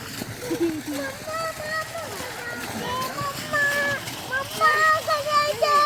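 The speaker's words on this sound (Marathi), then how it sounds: "जमुना आंघोळ करते पाण्यामध्ये" A child splashes in swimming pool water at a farmhouse, with sloshing and splatter running steadily beneath near, continuous chatter from adults and children.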